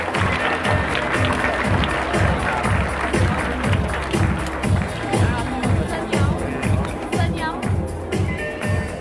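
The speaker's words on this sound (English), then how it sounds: "Let's give him a big round of applause." An audience at a college entrepreneurship summit claps steadily over a pounding, rhythmic backing beat, with crowd chatter and cheering mixed in throughout.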